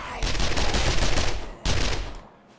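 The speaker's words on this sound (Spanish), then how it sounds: "yo voy pegando tiros" Rapid gunfire bursts in the zombie survival video game 7 Days to Die, loud and close, one long volley followed by a short pause and a second burst.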